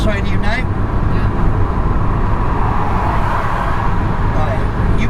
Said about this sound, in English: That car coming up the outside of you now.